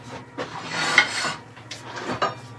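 A skew chisel scrapes and rubs against wood spinning on a lathe while a tealight holder is turned, giving a few uneven, close rasping passes with brief gaps between them and no talk.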